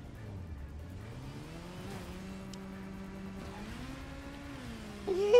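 A motorcycle popping a wheelie in Gotham Knights, its engine droning steadily with a rising and falling pitch, close and continuous, ending in a louder rev, with no talking.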